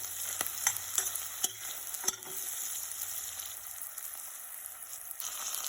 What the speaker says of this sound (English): So we have to fry this onion for 3 to 4 minutes